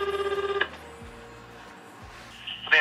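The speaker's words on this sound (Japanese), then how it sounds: "とある店舗に電話しますね" Phone call to a North Face store: a rapid series of regular ringback tones up close, then a quiet gap with faint low thumps, and a new tone burst starting at the end.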